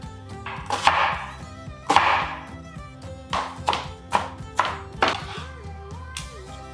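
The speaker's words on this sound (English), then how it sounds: "now let's chop up an onion" A knife chops through an onion on a cutting board in a steady run of sharp thuds, close and fairly loud, with faint background music underneath.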